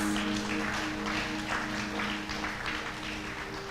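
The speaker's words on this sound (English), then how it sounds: "can we give the Lord a huge round of applause?" A congregation at a youth worship retreat claps together in sustained applause, a dense wash of hand claps holding steady throughout with a faint musical tone underneath.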